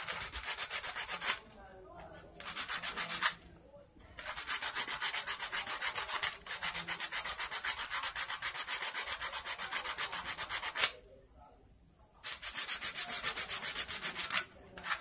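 Rubbing and scrubbing on copper and iron being cleaned before soldering, a steady rasping scrape in long strokes with a few brief pauses, close and fairly loud with no talk.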